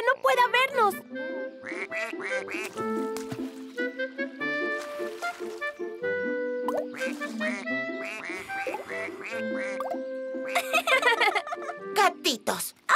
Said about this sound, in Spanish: los patos no nos dejaban dormir